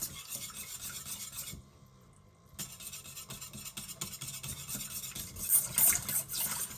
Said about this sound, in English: we'll carry on stirring that